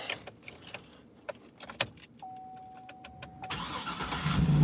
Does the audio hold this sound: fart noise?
no